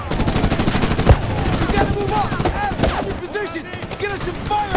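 Rapid bursts of automatic gunfire crackle continuously in Medal of Honor (2010), dense and loud, mixed with battle noise and shouted voices.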